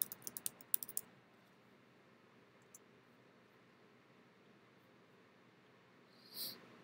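A computer keyboard gives a short burst of quiet, rapid key clicks at the start, followed by a near-silent hiss.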